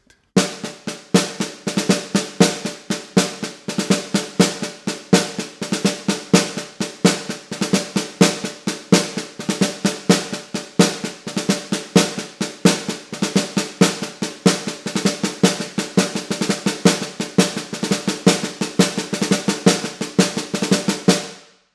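A caixa snare drum plays a Bahia rhythm with rolls: rapid, steady, dry strikes repeating evenly for about twenty seconds, played alone with no voices.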